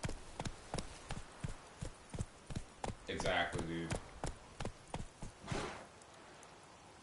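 Horse hooves clip-clop in The Witcher 3: Wild Hunt on PS5, a steady, even string of hollow hoofbeats at a walking pace that slows and stops, with someone briefly talking over it.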